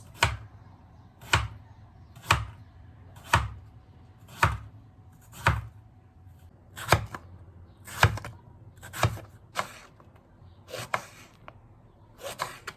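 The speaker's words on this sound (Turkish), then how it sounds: "Patatesi dörde böleceğim. Patatesi şu aletle keseceğim." Potatoes being cut into quarters with a kitchen tool on a board, a dozen sharp, evenly spaced chopping knocks about once a second, close and crisp with no talking.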